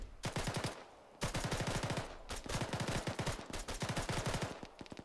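Rapid bursts of automatic gunfire in Arma 3 milsim multiplayer combat, several sustained strings of loud close shots with brief pauses between them.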